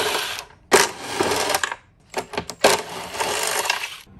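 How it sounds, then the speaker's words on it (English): A ratchet on a deep socket set clicks rapidly as bolts come loose from an air conditioner compressor. Two close bursts of dense ratcheting are separated by a few single clicks. "I'm going to use my new deep socket set to get the compressor out."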